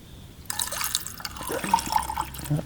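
An acetone mixture is poured into the stuck engine of a Ford 3600 tractor, giving a short, close trickle of liquid with light splashing and dripping that starts abruptly and continues to the end.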